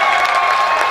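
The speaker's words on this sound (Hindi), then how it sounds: "जोरदार तालियों से इस्तकबाल करो" Audience applause at a poetry gathering (mushaira), a dense, steady wash of clapping from a crowd, loud and continuous through the short moment with no talk over it.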